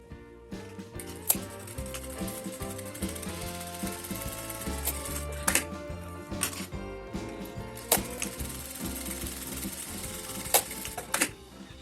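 A home sewing machine runs a straight seam along the top of fabric for a small wallet, its rapid mechanical stitching steady and close throughout, with brief pauses and short bursts of louder clatter.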